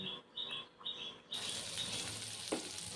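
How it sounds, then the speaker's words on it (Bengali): Cauliflower pieces frying in plenty of mustard oil, a steady close sizzle and crackle with a few brief clinks and chirpy hisses. "ফুলকপিগুলো ভালো করে লাল লাল ভাজতে গেলে তেলটা একটু বেশিই লাগে"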